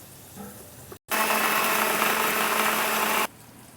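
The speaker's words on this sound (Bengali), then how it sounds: "এর মধ্যে আমি মিক্সিতে মশলাটাকে গুঁড়ো করে নিচ্ছি।" An electric mixer grinder powders spices in one loud, steady whirring burst of about two seconds that starts abruptly and cuts off sharply, heard close with no speech.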